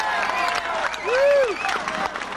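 A crowd of about a thousand people on Fifth Avenue claps and cheers in support of striking musicians, steady loud applause with a voice rising briefly over it.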